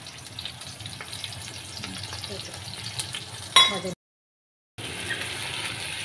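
Garlic fries in a pan with spices, giving a steady close sizzle broken by a few scraping clinks. The sound drops out briefly before the frying hiss resumes.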